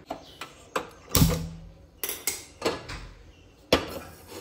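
A metal pressure cooker is moved aside in a kitchen, giving a series of sharp clanks and knocks of metal on metal, fairly close and spaced irregularly, with one heavier thud near the middle.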